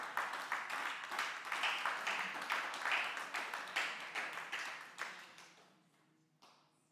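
Church congregation applauding during a French-language worship service, a dense sustained clapping that holds steady for about five seconds and then thins out and fades, with a last few scattered claps.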